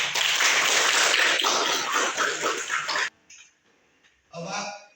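A classroom of students claps in a dense, lively burst of applause for about three seconds, then stops, followed by a short murmur of voices.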